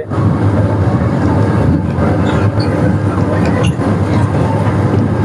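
A small amusement park train ride at Sugandha Park in Nawabganj, Dhaka, rumbling along steadily and loudly up close, with continuous low clatter of wheels and cars and no talking.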